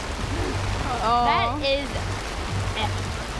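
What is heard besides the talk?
rain splashing at water park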